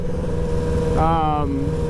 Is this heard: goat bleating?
no